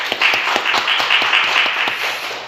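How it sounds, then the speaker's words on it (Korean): A church congregation applauds steadily for a couple of seconds, a dense patter of many hands clapping close by. "우리 서로서로 격려하는 의미로 박수 한번 치겠습니다."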